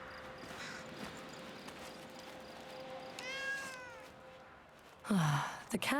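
A cat meows in the video game Blacktail, set in a quiet hum with soft footsteps. One faint, wavering meow comes in the middle, followed by a louder, closer yowl near the end.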